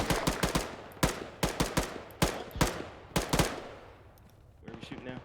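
Video game firefight with loud bursts of automatic gunfire in clustered volleys, repeated shots close and sharp, trailing off into quieter rumble near the end.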